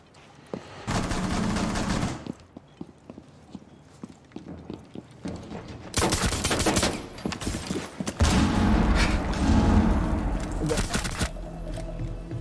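Gunfire in Rainbow Six Siege rings out in loud bursts of rapid shots, dense volleys around the start and again in the second half, with sharp isolated cracks scattered between them.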